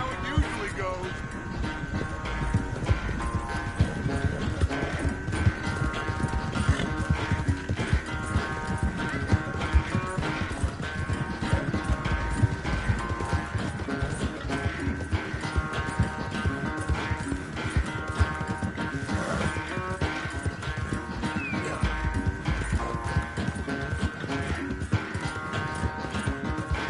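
Horse hooves pounding in a PS4 horse racing game, a fast, steady clip-clop rhythm that runs throughout with the game's music and other sounds, while someone talks over it.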